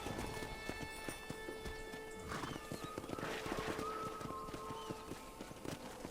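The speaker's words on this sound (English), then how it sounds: "there's a pack of wild horses nearby" Wild horses in the Red Dead Redemption 2 video game, hooves clattering in quick uneven clip-clops while several whinnies ring out, moderately near under a faint background.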